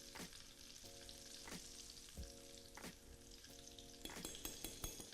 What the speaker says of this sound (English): very quickly dipping it into the hot oil